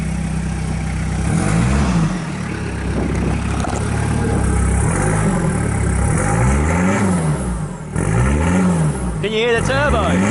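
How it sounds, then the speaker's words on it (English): A turbocharged car engine revs repeatedly, several loud rising-and-falling swells close by, with a turbo whistle near the end and people talking over it. "Can you hear the turbo?"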